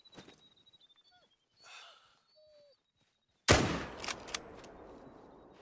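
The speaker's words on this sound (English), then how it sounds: "Yo, that was a crazy shot though." A single loud rifle shot rings out at a fallow deer in a hunting game, a sharp crack with a rolling echo that decays over a second or two after quiet breathing and faint ambient sounds.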